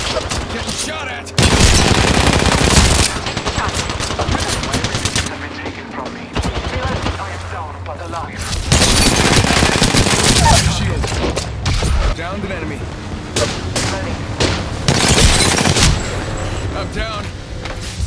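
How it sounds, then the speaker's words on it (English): Bursts of automatic gunfire aimed at the player in an arena shooter game, loud rapid fusillades with booms, dense and sustained across the stretch. "Getting shot at!"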